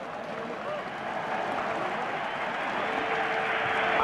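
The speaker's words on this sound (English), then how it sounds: "Anderlecht stand back to applaud West Ham" Football players on the pitch applauding the opposing side after a European Cup Winners' Cup final, a steady broadband wash of clapping mixed with crowd roar that holds level and swells slightly toward the end.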